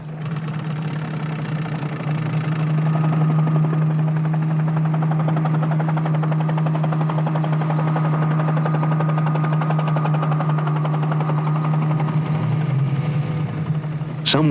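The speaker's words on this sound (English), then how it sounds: "will guide the helicopter in its aerial reconnaissance." A helicopter flies aerial reconnaissance over a river region where manatees travel, its steady rotor and engine drone holding loud and constant throughout, with a strong low hum and rhythmic blade chop.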